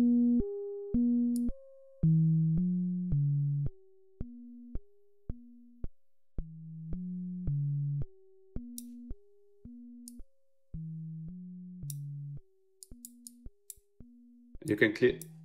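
A VCV Rack modular synth melody of plain buzzy tones through a low-pass filter, sounding muffled and dark, its upper brightness cut away, repeating steadily before a short noisy burst at the end.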